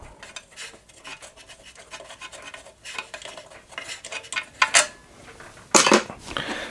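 A loose screw on the motor mount of a Burgess Powerline BBS-20 Mark II bandsaw is worked free by hand, giving light metallic scraping and rasping with a few sharper clinks near the end, close up and quiet, with no talk.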